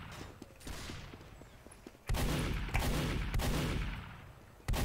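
Gunshots and rapid gunfire from the video game Team Fortress 2, a string of sharp reports with a louder sustained burst of shots in the second half, close and loud with no talk over it.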